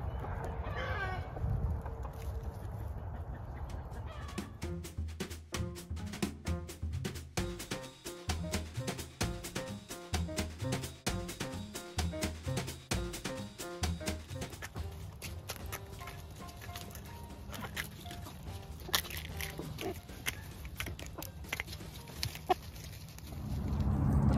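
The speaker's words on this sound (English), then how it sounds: "I'm going to have chickens out by this maple tree in a little while." Chickens cluck on a farm on an overcast March day, with repeated soft calls and scratchy, clicking activity running steadily close by over a low outdoor background.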